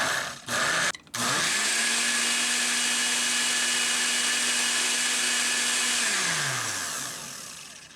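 A blender whirs through a zucchini and fruit smoothie with milk, starting after two brief pulses, then running steadily and loudly for several seconds before winding down at the end.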